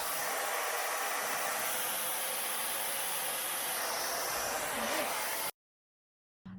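A Tymo Airhype Lite hair dryer runs on its low temperature setting with a steady, loud airy whoosh for about five seconds, then cuts off abruptly into silence before a brief hum returns.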